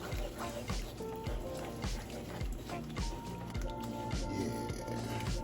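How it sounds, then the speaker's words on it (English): Water being poured and stirred into beef tips and gravy in a pot, soft wet sloshing and squishing with scraping stir strokes, close and continuous. "Let's just stir it while we're pouring."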